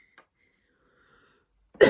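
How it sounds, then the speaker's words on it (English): A single short cough at the very end after near silence, close and fairly loud. "I feel like coughing's like the thing you don't do now, like cough"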